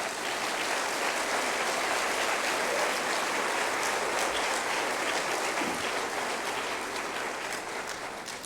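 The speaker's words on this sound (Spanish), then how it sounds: "Yo creo que merece un aplauso al Señor." Church congregation applauding, a dense, steady wash of many hands clapping that fills the space and holds at full strength before tapering slightly at the end, with no voices.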